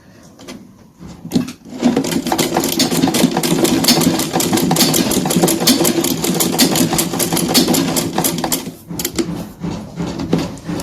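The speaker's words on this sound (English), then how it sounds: "Bring it together and sew it down" A sewing machine stitches down a welt pocket with flap on a tailored suit jacket, running in a fast steady close rattle for several seconds after a brief start, then slowing near the end.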